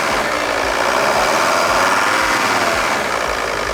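An old, high-mileage scrap car's engine idles steadily and loudly up close, its low running drone carrying a faint, slightly tappy ticking throughout.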